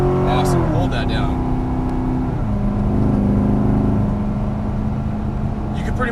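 A Chevrolet Corvette Stingray's engine pulls hard under throttle, its tone shifting as the car accelerates, loud and close with an instructor's voice talking over it.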